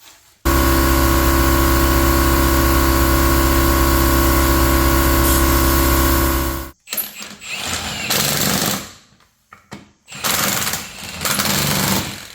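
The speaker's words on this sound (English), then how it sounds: "Harbor Freight brake bleeder" A Harbor Freight Pittsburgh pneumatic brake bleeder hisses loudly and steadily for several seconds at close range, then cuts off, followed by uneven bursts of airy hiss and mechanical noise with brief pauses during brake work on a Blazer.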